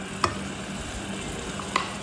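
Ground spice paste sizzles gently in hot oil in a pan while tempering for anchovy kuzhambu, a steady low frying hiss with two brief clinks of a stirring spoon.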